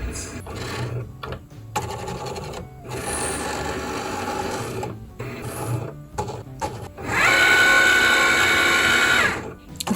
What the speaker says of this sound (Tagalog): Start na rin mag-scan yung machine nito ng registration marks.